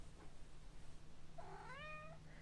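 A cat under a blanket lets out a single muffled meow, rising then falling, after a quiet stretch with a faint low hum.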